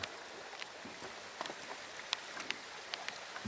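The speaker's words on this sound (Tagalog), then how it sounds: "umulan yan oh" Light rain pattering steadily on a surface outdoors near a fishing spot, soft scattered drops ticking over a continuous wash, fairly faint with no talk.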